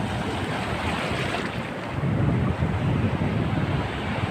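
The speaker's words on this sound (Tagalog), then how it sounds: "Oh naku, ang laki ng alon." Loud, continuous rush of surf and crashing waves with heavy wind buffeting the microphone, swelling stronger in the second half.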